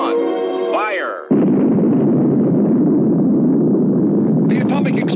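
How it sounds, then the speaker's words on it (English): A massive explosion erupts with a sudden roar, then a sustained, loud rumbling blast that continues unbroken, after a brief spoken voice at the start. "The atomic explosion had registered a force exceeding 10 million tons of TNT"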